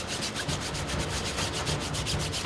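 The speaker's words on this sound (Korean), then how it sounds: "솔에 세제를 묻혀 꼼꼼하게 곰팡이를" A detergent-soaked brush scrubs mold off a water park surface in quick, even back-and-forth strokes, a close, steady rasping rub with no talk.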